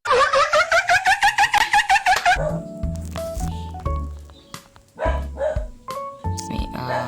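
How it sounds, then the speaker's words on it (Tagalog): Rapid series of about a dozen high yipping dog barks in Minecraft, loud and close, followed by game sound effects and clatter. "May aso. May aso."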